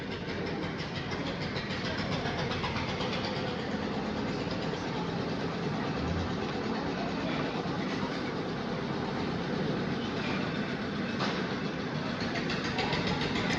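Sewing machine stitching a fabric half collar, a faint, continuous rapid mechanical rattle that runs steadily throughout without pauses or talk.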